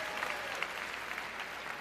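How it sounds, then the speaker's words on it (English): A crowd at the World Men's Curling Championship in Lethbridge breaks into sustained applause, a dense, even patter of clapping hands that holds steady without pause and sounds somewhat distant. "Huge ovation from the crowd here in Lethbridge"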